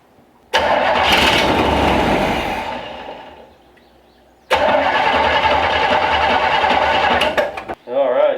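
A 1965 Chevrolet C10 truck engine cranks, catches and runs loud and close, dies back briefly, then restarts and runs steadily before a short sputter near the end.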